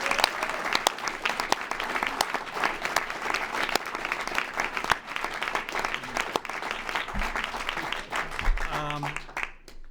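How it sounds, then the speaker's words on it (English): A room full of cast and crew applauding at the table reading for The Office finale, loud continuous clapping lasting the full ten seconds, with a few voices and a brief cheer rising near the end as it fades. "let's get one big round of applause and thanks as one championship team"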